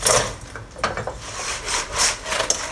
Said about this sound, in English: You can listen to how crispy this actually is.